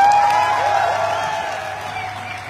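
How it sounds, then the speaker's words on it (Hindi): An audience at a function in Kota applauds and cheers, a mix of clapping and crowd noise that starts strong and gradually fades, with a voice briefly rising over it. "कितनी ताली बजनी चाहिए?"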